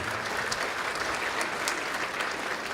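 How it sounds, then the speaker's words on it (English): A conference audience at an Indigenous diabetes prevention gathering applauds, steady dense clapping from many hands filling the whole stretch at even loudness. "let's give them a big round of applause"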